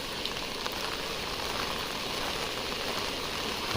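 Rain falls in the Mamalakandam forest as a steady, even hiss of drops that stays constant and fairly quiet for the whole stretch, with no voices.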